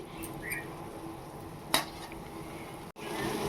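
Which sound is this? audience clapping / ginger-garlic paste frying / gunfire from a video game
ginger-garlic paste frying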